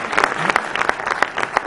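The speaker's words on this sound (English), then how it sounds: "So let's give them all a hand real quick" Applause from an audience at a tech networking cocktail event, a steady wash of many hands clapping with sharp individual claps standing out, fairly loud and close for the whole stretch.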